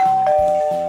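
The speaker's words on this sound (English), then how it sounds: "That's the doorbell." A doorbell chimes once in a loud, clear two-tone ding-dong, heard alone and close by.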